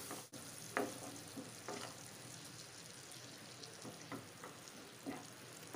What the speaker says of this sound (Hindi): इस मसाले को भी हम थोड़ा सा भून लेंगे